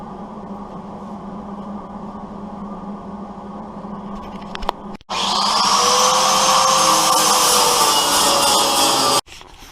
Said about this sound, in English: basically we weld all these and ground it off with the wheel